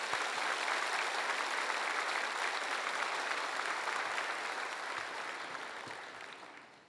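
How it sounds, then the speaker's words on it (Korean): Warm, steady applause fills a church sanctuary as a congregation welcomes a pastor, dense and sustained throughout before gradually thinning toward the end. "지구촌의 따뜻한 박수로 모시겠습니다"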